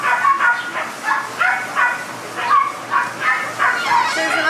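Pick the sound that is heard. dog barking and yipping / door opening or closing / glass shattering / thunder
dog barking and yipping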